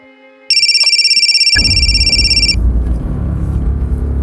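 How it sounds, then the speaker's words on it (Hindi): A loud electronic telephone rings in a steady warbling trill for about two seconds, then cuts off as a deep rumbling engine-like drone takes over the rest of the clip. "गौरव के किडनैपिंग के अगले दिन मुझे एक फोन कॉल आया था।"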